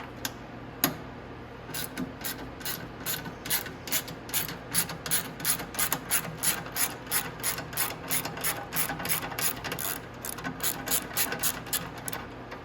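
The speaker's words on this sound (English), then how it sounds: "you're going to need to have a 10mm wrench to reach underneath" A 10mm ratchet wrench tightens bolts underneath a 125cc mini jeep, giving rapid, evenly spaced pawl clicks that run steadily and close up throughout, with no talking.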